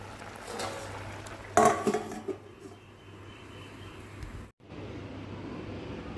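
A lid lands on a pot of potol chingri, the gourd-and-prawn curry, with one sharp metallic clank and a brief rattle against steady low kitchen noise.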